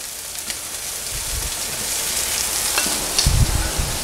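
Sliced pears sizzle and fry in a hot pan for a white wine pear sauce. A close, steady crackle runs throughout, with a few louder bumps near the end as the pan or fruit is moved.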